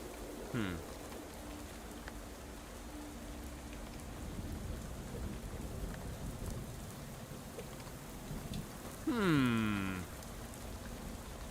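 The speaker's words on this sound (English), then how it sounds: "I feel like the rain is definitely getting heavier." Heavy rain falls steadily through a video game scene, with two brief deep rumbles of thunder, one at the start and a louder one near the end.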